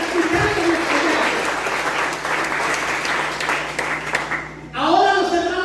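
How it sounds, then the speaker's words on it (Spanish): A church congregation applauds steadily for brothers listening from outside the building, a dense wash of clapping that holds throughout. A brief pause comes near the end before a fresh burst of louder applause starts up. "Regalemos un fuerte aplauso a nuestros hermanos que están en las afueras escuchando nuestro Dios."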